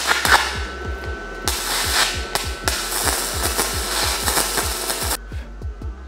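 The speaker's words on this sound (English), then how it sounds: "First couple of attempts with that TEMU welder." A cheap budget arc welder crackles and buzzes in sustained runs with brief pauses, loud and close, over a steady low hum and a regular thumping pattern underneath.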